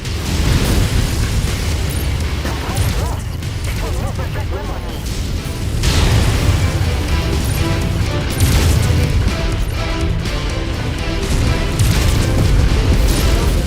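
In MechWarrior 5: Mercenaries, missiles strike and explode in loud, rumbling booms over a continuous roar of battle. The blasts swell at intervals amid dense combat noise, and voices speak through it.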